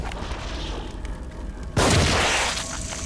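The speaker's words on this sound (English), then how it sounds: "I tried to run away from the explosion thing and I ended up smashing my head into it." An explosion in the horror video game The Evil Within: a sudden heavy boom bursts out midway over a dense, noisy game background and fades over about a second.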